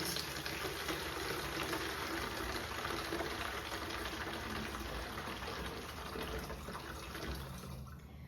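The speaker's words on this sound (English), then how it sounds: "So after pouring in our first quart, we are about here on our gallon container." A quart of water pours steadily into a gallon container, a continuous close rushing splash that holds for several seconds before easing off at the end.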